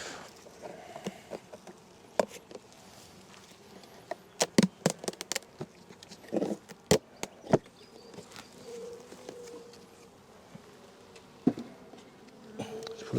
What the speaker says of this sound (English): you might see a lot of bees flying back and forwards and bumping into me